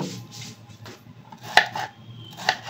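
A knife slices a tomato on a cutting board in a home kitchen making sweet corn tomato pasta, with soft scrapes and several sharp taps of the blade hitting the board.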